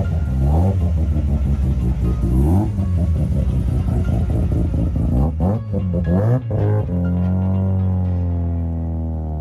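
A race car at Tsukuba Circuit revs up through several rising gear pulls as it leaves for the track, then settles into a steady, fading engine drone as it pulls away.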